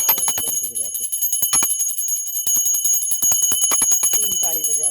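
A small bell rings rapidly and continuously in a steady jangling rhythm, with a woman singing over it, during a Hindu food-offering ritual to Laddu Gopal.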